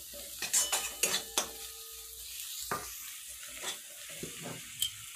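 Spiced masala frying in oil with chopped coriander as it is stirred through, a metal spoon scraping and clinking against the pan in scattered knocks over a soft steady sizzle, close by.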